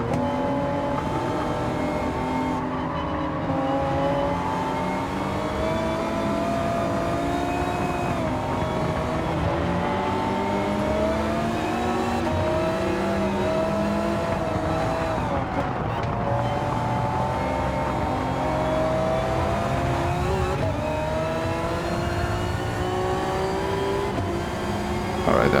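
A race car's engine in the racing game Gran Turismo 7 drones and revs continuously for the whole stretch, rising and falling with gear changes and accelerating out of corners, loud and steady, with faint talk underneath.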